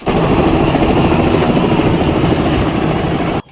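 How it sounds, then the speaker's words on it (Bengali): A helicopter's heavy, steady rotor throb and engine roar, loud and close, holding constant throughout before cutting off abruptly at the very end. "হেলিকপ্টারের শব্দে জড়ো হয় এলাকার শত শত মানুষ"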